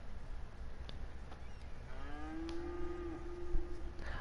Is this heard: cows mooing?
yes